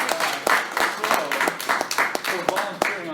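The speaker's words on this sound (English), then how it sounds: "You give them a round of applause" An audience claps in a round of applause, a dense burst of overlapping hand claps with a few sharper individual claps standing out, sustained for a few seconds.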